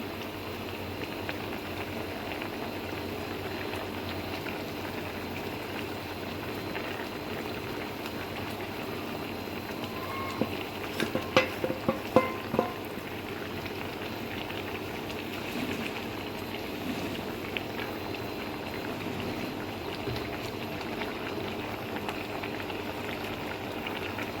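Fish curry boils in a pot in a home kitchen with a soft, steady bubbling simmer that continues throughout. A cluster of brief clinks and knocks comes near the middle.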